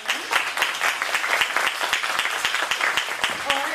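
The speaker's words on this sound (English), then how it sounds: "Well, everybody give a round of applause for our panel." A workshop audience applauds a panel, a steady crackling wash of many hands clapping throughout, fairly close, with scattered voices underneath.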